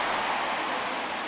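Steady rain pouring during a baseball game in MLB The Show 24: a dense, even hiss of falling drops with no breaks, loud and constant.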